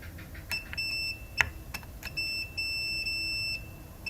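A multimeter set to continuity beeps as its probes run along chip pins on a generic 8500 W RMS subwoofer amplifier being repaired, giving short intermittent tones and a sustained beep, with faint clicks of probe contact.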